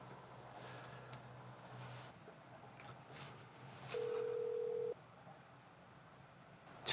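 A faint, single steady telephone ring tone sounds for about a second over quiet background, and nothing answers it.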